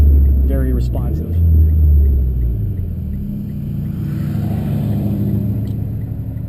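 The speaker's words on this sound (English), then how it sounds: "You'll hear it downshift as well, right there, more aggressively to keep your RPMs high" Engine of a Mitsubishi Evo MR with TC-SST gearbox revving up sharply, then settling to a steady drone after an aggressive sport-mode downshift, heard from inside the car with a rumbling low end.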